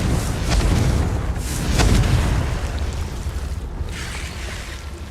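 A Confringo explosive spell blast in Hogwarts Legacy, heard as two loud booming bursts close together, followed by a rumbling, fading tail.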